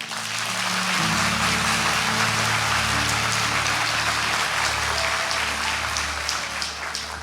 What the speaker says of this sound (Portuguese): Pode aplaudir a Jesus por isso?